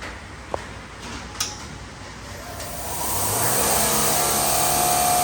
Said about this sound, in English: Now we can see the air pump is pumping the air into the tank.